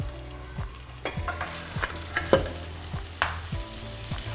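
Spiced potato and cauliflower aloo gobi frying in a pan with steady sizzle, while a spoon scrapes and stirs in repeated strokes roughly every half second, close and moderately loud, with no talking.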